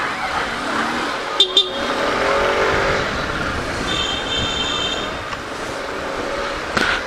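Busy nighttime street traffic in Nasugbu, with a steady wash of passing vehicles and a few short, sharp horn toots cutting through the continuous road noise.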